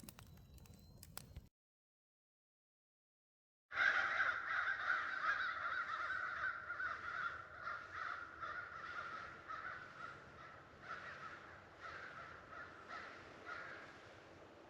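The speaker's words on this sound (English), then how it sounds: "Crows are out." Crows cawing in the morning outside a hammock campsite, repeated harsh caws from several birds, moderately distant, continuing for over ten seconds after a brief silence, with no voices.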